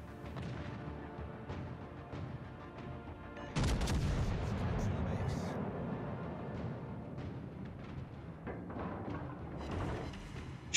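Warship guns fire in World of Warships: Legends, a heavy naval salvo that bursts in suddenly partway through and rumbles on, with lighter game effects and music around it.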